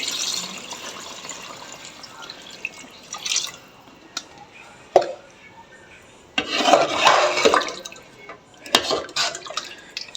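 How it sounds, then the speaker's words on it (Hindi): After a few quiet clinks, water pours into a cooking pot in a splashing rush of a couple of seconds, followed by smaller trickles. "और अब मैं इसके अंदर ऐड कर रही हूँ पानी"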